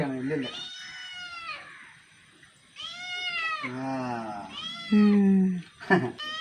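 A cat meows several times, loud and close, with drawn-out, wavering cries separated by short pauses.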